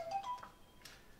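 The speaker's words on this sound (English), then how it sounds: "It's an alarm." A phone alarm gives off a quick, faint run of electronic beeping tones that lasts about a second.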